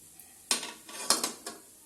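A spoon scrapes and clinks against a pan while grated coconut is mixed in off the heat, a few quick stirring strokes with sharp metallic knocks, close and alone.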